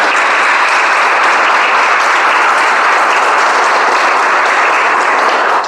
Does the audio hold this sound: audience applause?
yes